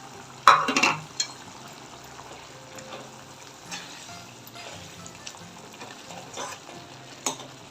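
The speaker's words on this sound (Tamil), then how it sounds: "நல்லா கலந்து விட்டுருவோம்." Brinjal kurma with coconut paste being stirred in a pan, a soft frying sizzle under scraping spoon strokes, with a sharp clatter near the start and another late knock.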